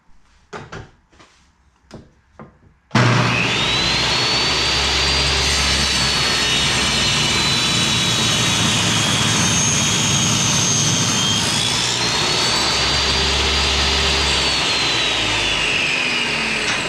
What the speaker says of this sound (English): Just a quick jig to cut some bevels